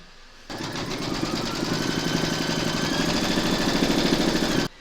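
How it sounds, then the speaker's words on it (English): An embroidery machine stitches a round of a watermelon coaster with a steady, rapid mechanical whir and fine rhythmic needle pulsing. It runs continuously and close at an even level, with no voices. "Pop your hoop into your machine and stitch round number 3 to secure them."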